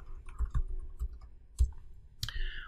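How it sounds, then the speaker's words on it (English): A computer mouse clicks on a software button several times, with soft, sharp, close ticks spaced irregularly over a quiet background hum, ending in a brief electronic tone. "clicking on the Add Association button"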